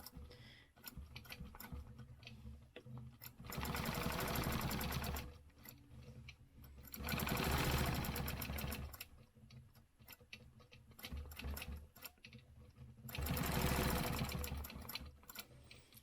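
A sewing machine stitches quilting stencil lines in three sustained bursts of rapid mechanical hum and ticking, separated by quieter pauses with slower clicks as the fabric is repositioned.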